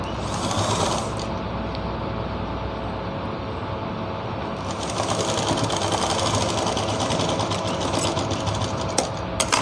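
A sewing machine stitching pleats into a salwar runs close and steady, a continuous whirring mechanical hum with a brief slowdown near the start before it picks back up, and no talking.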